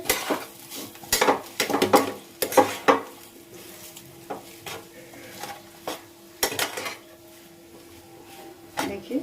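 A spoon scrapes and knocks against a pan while boiled potatoes are mixed into a semolina kachori filling, irregular clinks and scrapes with soft sizzling underneath and a brief spoken word.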